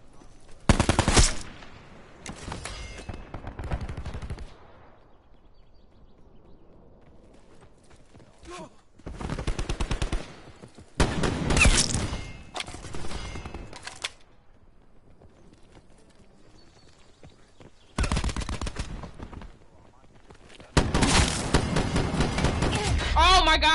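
Rapid gunfire rattles out in several separate bursts, loud and close, with long quiet gaps between them and talk in between.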